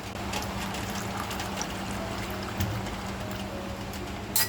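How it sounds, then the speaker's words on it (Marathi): Water poured into crushed crab legs for a village-style crab masala, a steady wet trickle and splash running throughout, moderately quiet, with a brief clatter near the end. "आता आपण आहे ना ह्याच्यामध्ये पाणी टाकूया"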